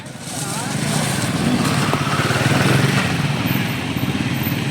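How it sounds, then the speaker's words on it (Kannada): Motorcycle engine revved hard at full throttle during a World Motorcycle Day rally gathering, a steady loud mid-pitched drone sustained throughout under crowd noise and talking. "ಫುಲ್ ಥ್ರಾಟಲ್ ಕೊಡು ಮಗ"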